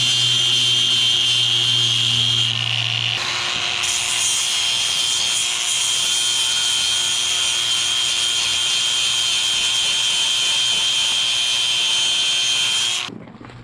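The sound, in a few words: grinder grinding down metal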